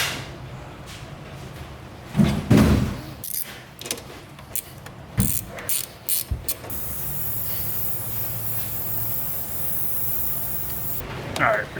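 Compressed air hisses from a leaking hose fitting on a cheap plasma cutter setup. A steady hiss runs through the clip, broken by clicks and rattles of handling the fitting, with someone talking at times.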